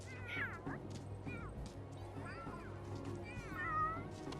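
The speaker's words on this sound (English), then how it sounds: "can hear some cats doing some hunting." Cats in The Sims 3 meow repeatedly while hunting, several rising and falling meows over a steady low hum of game ambience, with a faint voice underneath.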